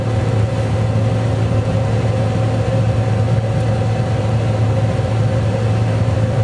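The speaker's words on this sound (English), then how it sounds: "Now I'm going to pull forward with the combine." A John Deere combine harvester pulling forward in a field, a steady, loud engine drone with a constant low hum that holds unchanged throughout, heard from inside or very near the machine.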